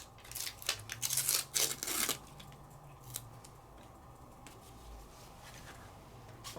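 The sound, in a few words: peeling backing off embossed paper piece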